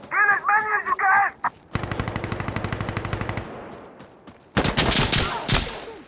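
Automatic gunfire in the game Insurgency Sandstorm: a short burst, a long rapid string of shots, then another loud close burst, with voices talking between shots.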